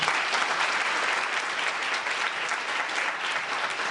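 A lecture hall audience breaks into dense, sustained applause after a talk, a steady wash of many hands clapping for the whole stretch with no voices on top.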